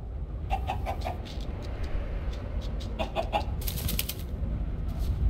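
A chicken in Minecraft Story Mode clucks repeatedly in short, choppy bursts over a low rumbling background, with a brief flutter of wings partway through.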